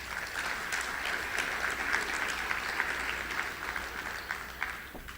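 Audience applauding at the 2014 ACTE and ACE Professional Development Conference closing session, steady dense clapping throughout, fairly loud and continuous with no pauses.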